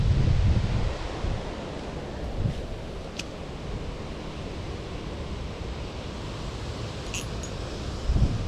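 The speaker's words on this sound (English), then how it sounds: "The wind's kind of screwing up my mojo right here." Wind blowing steadily at a creek during ultra light fishing, heard as a constant broad rush with heavier gusts buffeting the microphone at the start and end, with no one talking.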